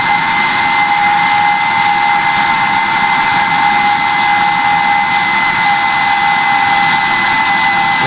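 Airbus A220 jet engines climbing after takeoff in the Project Flight game, a loud, steady, unbroken roar with a broad hiss and a sustained high whine.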